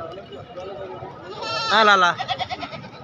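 Goats bleat at a Bahawalnagar livestock market ahead of Qurbani, one loud wavering bleat rising over steady crowd noise and close speech, followed by a quick pulsing run of shorter bleats.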